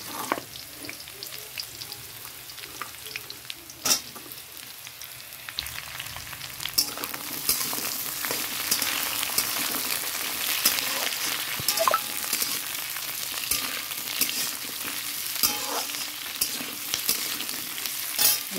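Potatoes frying in a hot pan of oil, a steady loud sizzle with occasional stirring clicks and crackles that intensifies partway through, with no talking.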